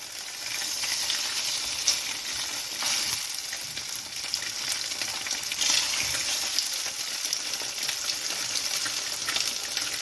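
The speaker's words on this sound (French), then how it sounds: "vous allez mettre une poêle à chauffer avec de l'huile d'olive. Et nous allons cuire notre poisson" Redfish fillet frying in olive oil in a hot pan, a steady, dense sizzle running continuously and fairly close throughout, with no voices over it.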